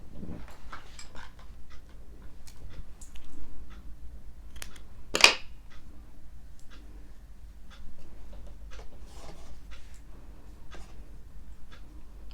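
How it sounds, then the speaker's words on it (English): Scissors snip through crochet yarn, a single sharp cut standing out amid faint handling clicks and rustles of the yarn work. "So I'm going to finish this off and cut my yarn."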